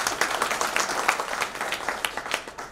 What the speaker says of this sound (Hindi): अब चाहें तो तालियां बजा सकते हैं।